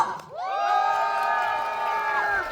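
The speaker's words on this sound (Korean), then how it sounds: "함성과 박수 한번 받아보겠습니다" A crowd at an outdoor temple concert by a singer at a Buddhist temple in Miryang erupts in cheers, whoops and clapping, a dense roar that swells and holds steady for a few seconds.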